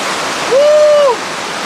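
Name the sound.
small waterfall on the Inca Trail, Peru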